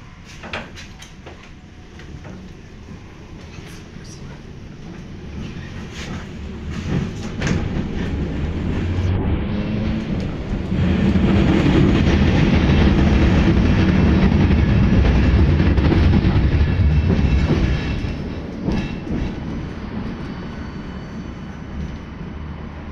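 A KTM 71-623 tram rides along city rails, heard from inside as a steady rumbling roar with clatter, rising in loudness midway as it speeds up, then easing slightly toward the end.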